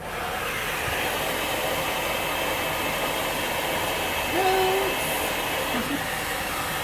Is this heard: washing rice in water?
no